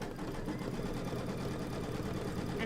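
Embroidery machine stitching out a quilt block, a steady low mechanical hum that runs continuously throughout, fairly quiet, with no talking.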